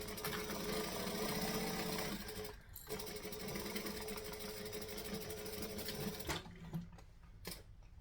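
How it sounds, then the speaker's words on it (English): A sewing machine stitches up the seam of a triangle bag in a steady, fast mechanical whir, close and continuous. It breaks briefly near the middle and stops near the end, with no talk. "I'm just going to sew up this bit"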